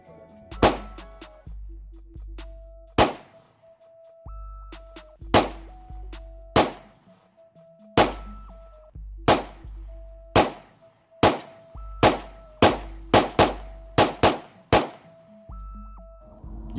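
An HK VP9 pistol fires fifteen rounds from a regular magazine, with loud, sharp reports in an uneven, fairly quick string. Each shot rings with a metallic clang and tone that trails off between shots.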